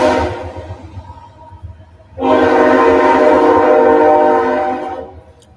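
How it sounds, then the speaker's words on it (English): A train passes close to the tracks, its horn blaring loud, sustained and tonal for about three seconds over a steady rumble of rail cars, then trailing off. "bear with me with the train here"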